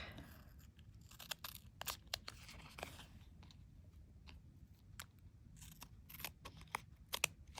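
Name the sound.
scissors trimming metal tape from the back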